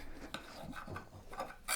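Scraping and clinking of a knife against a plate while cutting a seitan burger, a few gritty rasps and light taps close by, with no talking.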